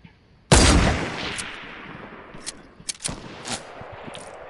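Sniper rifle shots in a video game: one loud close blast followed by a long rolling echo, then several sharper cracks and distant gunfire further on.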